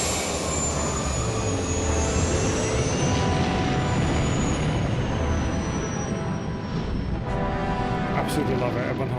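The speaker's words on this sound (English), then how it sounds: "Absolutely love it. Revan WHO's engine sound." A spaceship engine from a Knights of the Old Republic (KotOR 1) game mod gives off a steady, loud jet-like roar that holds constant throughout, with a faint high whine sliding down near the end.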